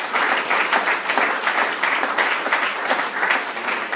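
Church congregation applauding steadily throughout, a dense, even wash of many hands clapping at close range with no voices standing out.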